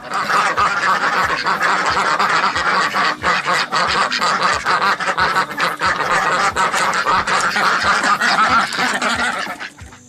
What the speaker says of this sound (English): the ducks are such early birds. And upon opening their eyes, they loudly demand to be fed.